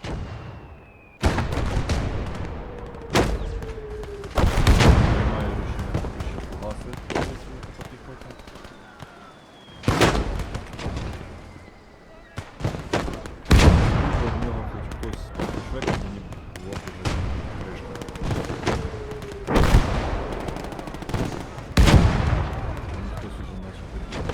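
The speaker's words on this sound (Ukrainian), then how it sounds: "Є кулемет Браунінг 50 калібр." Heavy gunfire and booming explosions from a WWII battle in the video game Gates of Hell: Ostfront, with a Browning .50 caliber machine gun among the weapons, loud bursts repeating every few seconds over constant battlefield noise, with talk underneath.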